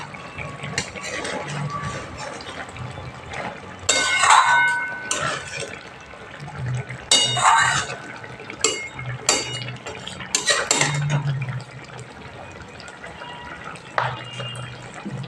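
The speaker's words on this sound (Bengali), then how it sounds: "একটুখানি সর্ষের তেল দিলাম" Raw mustard oil drizzled into a Bengali tel koi fish curry cooking in a home kitchen; a few short bursts of sizzling and liquid splashing rise over a low, steady background of utensil clatter.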